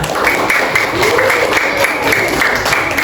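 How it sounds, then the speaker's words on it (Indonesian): Loud, steady applause from a crowd clapping continuously throughout, close and dense. "Tepuk tangan"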